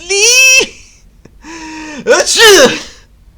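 A loud, close voiced cry, a short pause, then a gasping intake and a strong sneeze-like burst, all sounding theatrical and animated.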